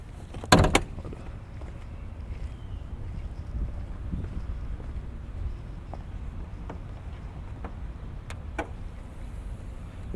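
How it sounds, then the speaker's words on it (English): A Camaro SS door unlatches with a single sharp clunk near the start, followed by a low steady outdoor rumble and a few faint clicks. "Open the door."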